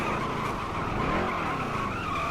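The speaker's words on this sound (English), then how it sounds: "completely spinning out and put into the wall" A NASCAR Heat 3 race truck spins out into the wall with a loud, sustained tire skid and squeal over a roaring engine, with no voices.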